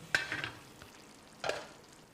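Mutton biryani stirred in a pot, Muslim home style: two short scraping, rustling stirs about a second apart, faint and close, with a soft sizzle between and no talking.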